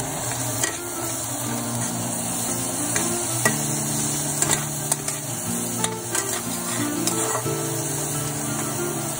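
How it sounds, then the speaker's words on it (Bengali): Chopped green chilli with garlic and ginger paste frying alongside browned onion, a continuous soft sizzle with scattered stirring clicks and taps of a utensil, close and steady throughout, no speech. "এবারে এর মধ্যে একটু লঙ্কা কুচি দিয়ে দিলাম, তারপরে আর একটু রসুন আর আদা বাটা দিয়ে দিলাম"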